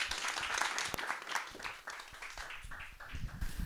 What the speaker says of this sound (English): So a great big applause for the two ladies